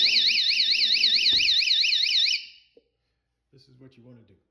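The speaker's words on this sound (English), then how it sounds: "Since this house has a pool, it has a door alarm so that kids don't go out there unexpectedly." A pool door alarm blares a loud warbling electronic siren for a couple of seconds, then cuts off, followed by a brief click and a person speaking afterward.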